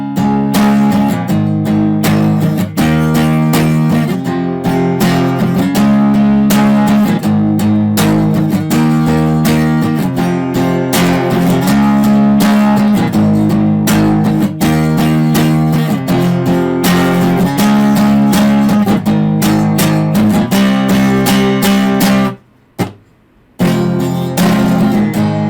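Guitar plays the chorus of a song, steady strummed chords repeating in a loud, continuous rhythm with a brief drop near the end.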